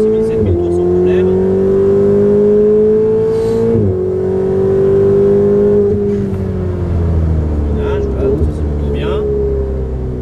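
A car engine held at high revs on a race track, a loud steady whine that rises slowly and dips at gear changes, with a voice talking over it.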